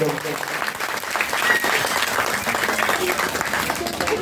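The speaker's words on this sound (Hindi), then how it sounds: "एक बार जोरदार ताली बजाकर आप सब लोग" An audience at a Bhagwat Katha religious gathering claps loudly for a guest, sustained dense applause with voices talking over the clapping.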